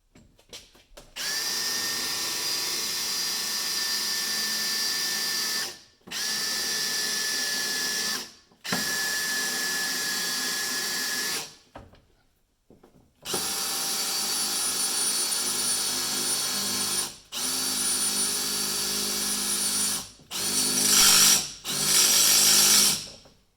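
A pneumatic rivet gun pulls rivets on GMC motorhome air conditioning ductwork, running as several long, loud whining bursts separated by brief pauses, with sharp pops near the end.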